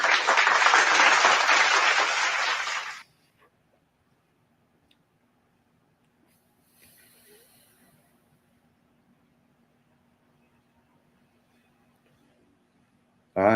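Audience applause at a comedy show breaks out loud and dense for about three seconds, then stops abruptly, leaving near silence with a faint brief murmur.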